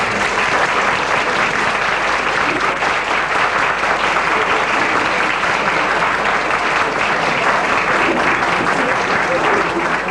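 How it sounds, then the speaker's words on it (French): Sustained, dense applause from a large audience honoring a group of dancers, a loud, unbroken wash of many hands clapping at once that holds evenly from start to finish. "Nous pouvons les applaudir encore une fois certainement."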